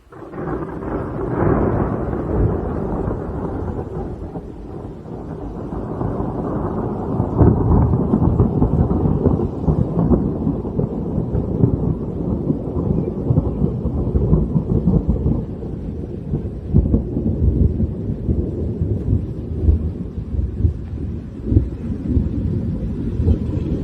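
A strong spring thunderstorm over Bordeaux on 12 May 2023, with heavy continuous rumbling thunder and rain-laden wind rolling on for the whole stretch, loud and close with no voices.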